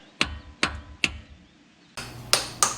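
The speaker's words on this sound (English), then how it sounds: "You got a hammer to tap it back in?" Sharp metal hammer taps on a pilot bearing inside a 1960 Ford Ranch Wagon engine, three evenly spaced close strikes followed by a brief rasping scrape and two more hard taps.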